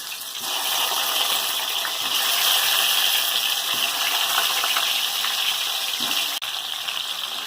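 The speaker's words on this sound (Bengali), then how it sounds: "সব কিছু মেখে যে আলুটা রেখেছিলাম সেটা তেলের মধ্যে দিয়ে দেবো" Seasoned potato pieces frying in hot mustard oil, a loud continuous bubbling sizzle that surges and holds steady, with a brief clank near the end and no voices.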